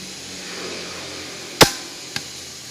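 A palm slaps a hubcap onto an alloy car wheel. Two sharp, close slaps ring out against quiet background: a loud one, then a softer one about half a second later.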